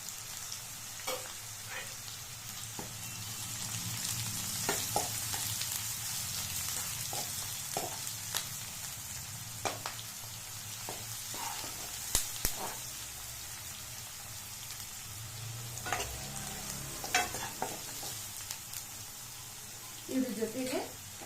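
Chopped onion and curry leaves sizzling in hot oil in a pan for drumstick sambar, a steady crackle with occasional stirring scrapes while someone talks.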